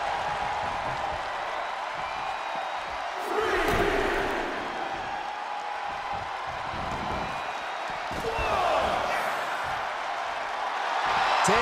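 Arena crowd in WWE 2K23 SmackDown roaring steadily, swelling into louder cheers twice, with a commentator talking over it.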